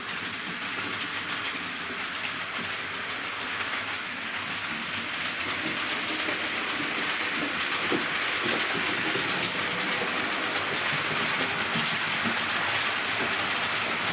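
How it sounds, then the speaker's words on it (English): Hornby Britannia Class model locomotive, Oliver Cromwell R3607, running at express speed, giving a steady continuous whirring rumble that holds evenly throughout with no talking. "Do you want to give it some pace, express speed?"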